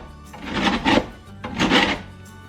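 Hard block of Samoan cocoa (Koko Samoa) rasped on a grater in two close, scratchy bursts, each a quick back-and-forth series of strokes with a short pause between.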